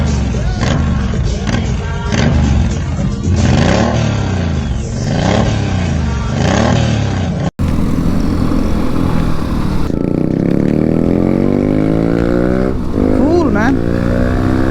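A Bajaj Pulsar 150 motorcycle engine revs hard over and over, loud and close, its pitch surging and falling in repeated waves, with a voice briefly heard later.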